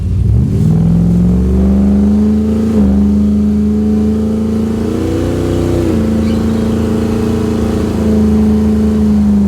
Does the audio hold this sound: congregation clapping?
no